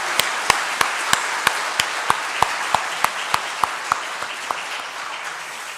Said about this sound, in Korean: 박수 한번 해주시기를 바랍니다.